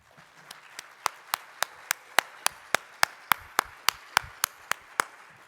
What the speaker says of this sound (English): Please, warm NAHRO welcome to Kevin Powell.